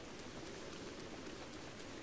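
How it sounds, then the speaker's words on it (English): Rain beginning to fall in Zelda: Breath of the Wild, a steady soft hiss of game rainfall, even and continuous throughout. "And now the rain starts."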